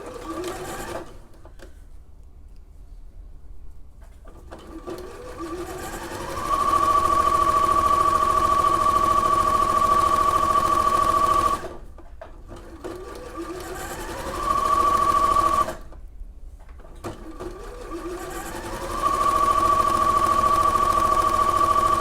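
Free-arm sewing machine with the base removed, stitching a long seam on a wine bottle gift bag: a loud, steady mechanical whir in several long runs that ramp up to speed, separated by brief stops.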